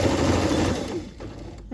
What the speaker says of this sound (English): All right, we can continue sewing.